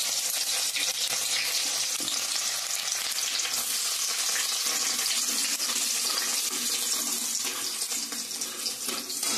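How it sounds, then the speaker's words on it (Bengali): Chopped garlic sizzles loudly in hot oil in a pan while a restaurant-style palak paneer is being made. The sharp bubbling hiss runs continuously for about nine seconds, close and loud, with no speech. "তারপর রসুন কুচি দিব, রসুন কুচিগুলো দিয়ে দিলাম"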